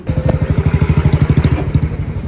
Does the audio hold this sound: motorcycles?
yes